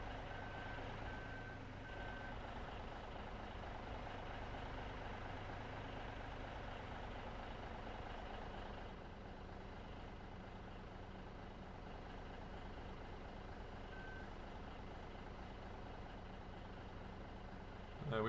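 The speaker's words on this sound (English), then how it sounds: "We can see the electronic weigh scales on the truck there." A truck in Farming Simulator 17 sounds its reversing alarm, evenly spaced electronic beeps over a low idling engine hum, with the beeping fading in the middle before returning.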